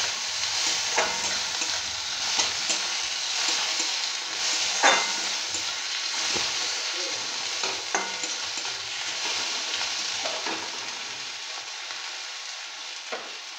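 Chopped onion and tomato frying in a pan, a steady bright sizzle running throughout with occasional scrapes and clicks of stirring, close and loud with no talking.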